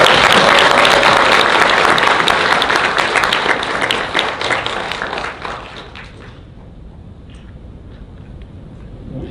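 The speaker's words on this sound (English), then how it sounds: "We can all applaud that." Loud, dense audience applause fills a political talk on conservative politics, sustained for several seconds before gradually thinning and fading into scattered claps and room noise.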